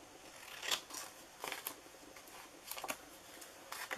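Scissors snip through the paper bottom flaps of a pinwheel treat box, giving a series of short, crisp cuts spaced irregularly and heard close up with no talk.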